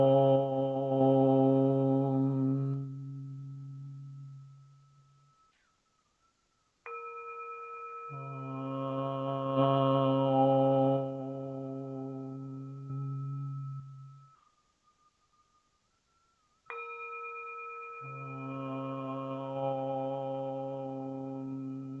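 Singing bowl ringing with a long, pure sustained tone under steady chanting voices, its metallic ring re-entering clearly twice as the hum swells and fades.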